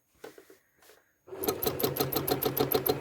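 A few soft taps and fabric handling give way to a sewing machine starting up and stitching serpentine quilting lines across a quilt, a fast even needle rhythm heard close.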